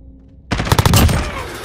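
Rapid automatic gunfire in Call of Duty: Modern Warfare (2019), a tight burst of loud close shots after a short quiet lead-in, with a fading tail.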